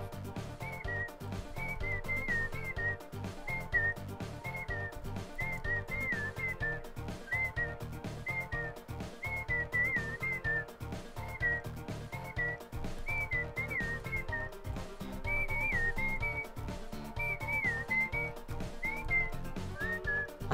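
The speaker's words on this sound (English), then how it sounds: "I love the music. I can't stop whistling to it." A person whistles a repeated melodic phrase along to DeltaRune game music, the clear whistled notes riding over the steady, rhythmic soundtrack throughout.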